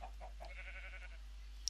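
Sheep in the video game Minecraft bleat faintly in a savanna, a few short wavering calls over a quiet low hum.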